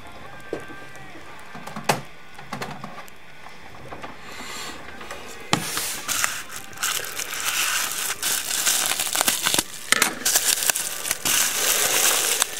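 Scissors crunch and rasp through a mail package around a trading card, a broad crinkling and crushing that grows louder and denser partway through, with scattered sharp snips and rustles close to the microphone and no talking.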